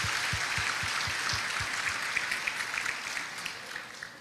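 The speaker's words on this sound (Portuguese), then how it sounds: "agradecer a Jesus pelo pastor Ivanildo com uma forte salva de palmas, em nome de Jesus." A steady round of clapping from an audience honoring a pastor, sustained and fairly close for a few seconds, with a few low thumps early on and individual claps standing out as it tapers.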